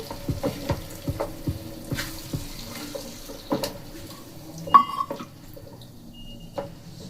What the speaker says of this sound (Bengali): আমি দিয়ে দেবো একটু মশলা ধোয়া জল, একটু ফুটে যাবে